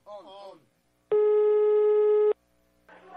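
On a prank phone call, a single long electronic ringback tone sounds on the line for just over a second, with a voice speaking briefly before and after it.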